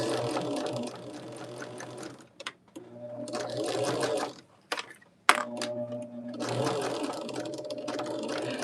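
A sewing machine stitches a quilt block in several short bursts of rapid, steady whirring and clatter, pausing between runs as the seam is backstitched, with a brief click partway through.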